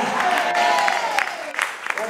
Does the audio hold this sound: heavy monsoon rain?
no